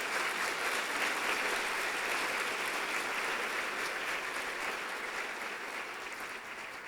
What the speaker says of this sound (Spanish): Ahora sí, denle un aplauso al Señor,